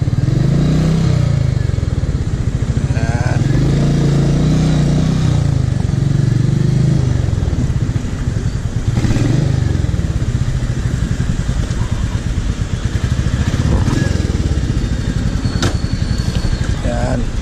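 A Royal Enfield Meteor 350cc motorcycle runs on a test ride with a steady, rumbling single-cylinder drone. A person talks over the engine throughout.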